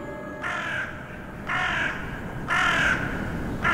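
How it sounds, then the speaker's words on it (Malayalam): A crow caws four times in an evenly spaced series of harsh, fairly close calls over a low background hum, with no voices. "കാക്കയുടെ കരച്ചില്, കാ കാ കാ കാ എന്ന ശബ്ദം."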